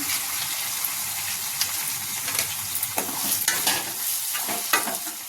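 Tomato and half a spoon of salt being stirred into bottle gourd curry in a pan, a steady close sizzle with scraping spoon strokes and soft wet stirring throughout, no talking.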